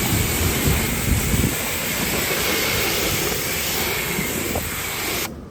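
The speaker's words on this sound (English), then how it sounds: "Let's rinse off the front of the vehicle here." A car front is rinsed with a steady, loud spray of water that hisses evenly throughout with some low splashing, then cuts off abruptly at the end.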